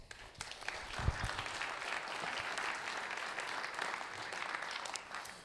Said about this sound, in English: So you give them a big round of applause.